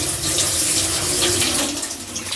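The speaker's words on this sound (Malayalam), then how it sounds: "നമ്മളതാ വെള്ളം ഒഴിച്ചിട്ട് ഒന്ന് കിഴുകണം" Steady running water, like a tap pouring into a basin, poured to wash potatoes, fills the whole moment at close range with a continuous broadband rush.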